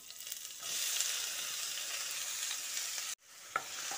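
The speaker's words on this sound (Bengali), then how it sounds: "পেঁয়াজটা দিয়ে কিছুক্ষণ ভেজে নিচ্ছি।" Finely chopped onion frying in oil with cardamom, cloves and cinnamon, a loud continuous sizzle that cuts off abruptly, then resumes with a single clack of a utensil.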